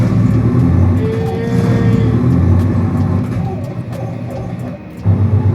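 A propeller aircraft engine in a flight simulator drones loudly and steadily, a thick low rumble that holds throughout with slight shifts in tone and a brief dip near the end.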